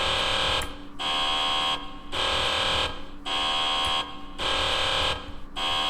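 A loud electronic alarm buzzer in Space Engineers sounds in repeated pulses, about five long blasts separated by short gaps.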